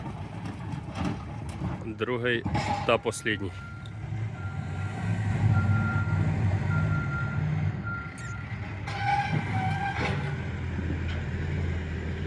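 A tractor works a field, its diesel engine a steady low rumble close by that grows louder midway, with brief reversing-style beeps early on and a voice speaking over it.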